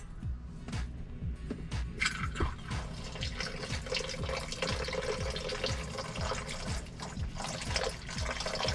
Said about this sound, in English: We have a gallon of water here, and today we're going to see how much the drain will hold.